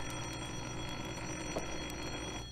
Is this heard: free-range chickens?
no